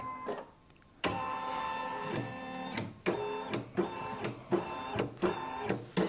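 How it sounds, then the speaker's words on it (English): A Brother combination sewing and embroidery machine whirs and clatters in repeated mechanical bursts as it scans fabric held in its embroidery frame, loud and close with no voices. "Just make sure that any fabric that you've got around here doesn't get in the way of the frame as it's doing the scanning."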